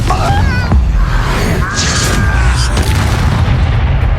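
The Confringo blasting spell in Hogwarts Legacy, a video game, lands as a loud, booming explosion. Rumbling blast noise and whooshing magical effects continue the whole time.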